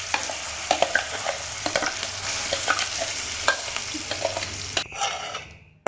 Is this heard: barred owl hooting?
no